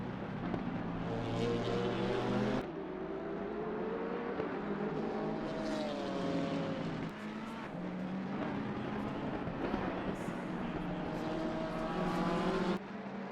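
Sim-racing BMW race cars howl around Bathurst in Assetto Corsa Competizione, engines rising and falling in pitch through repeated gear shifts, a steady loud engine note throughout with sharp changes at each shift.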